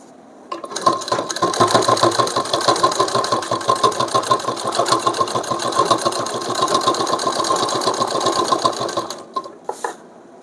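Sewing machine stitching a collar placket on a kurti, a fast, even mechanical chatter running steadily for about eight seconds before stopping, with a couple of faint clicks after.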